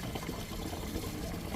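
Healing water pours into a container in a steady, close, rushing stream that holds an even level from start to finish, with no voices.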